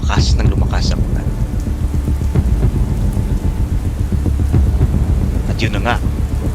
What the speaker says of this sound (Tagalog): unti-unting umiip ang hangin at lumakas ng lumakas ang ulan.